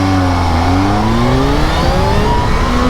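Kawasaki Z H2 supercharged motorcycle engine revving hard with rising harmonic pitch as the front wheel lifts into a wheelie, loud and close, continuous with no talk.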